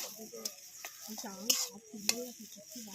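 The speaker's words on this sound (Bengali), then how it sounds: "আপনারা দেখুন এইভাবে একটু কড়াইতে সুন্দর করে ভেজে নিলেন" Mashed boiled potato frying in oil in a kadai, being stirred with a spatula, soft sizzling under scraping strokes and a couple of sharp metal clinks, close and moderately quiet.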